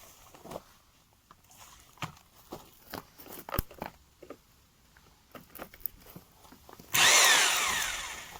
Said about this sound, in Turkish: Karışım için mikserimizi kullanıyoruz.